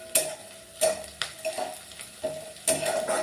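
Onions sautéing in a pan for a quick okra (bhindi) stir-fry, with repeated bursts of stirring and scraping over a soft, steady sizzle, a few sharp utensil clinks standing out close by.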